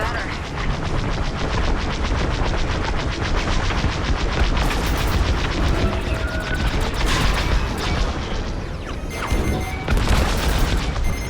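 Heavy enemy fire in Star Wars Squadrons: rapid repeating blaster and cannon bursts hammer continuously for the whole stretch, loud and close, with rising laser zips and impacts layered over the barrage.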